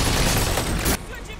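Rapid, loud gunfire from shooting zombies in MW3 Zombies, a dense rattling burst that cuts off abruptly after about a second, leaving quieter game ambience.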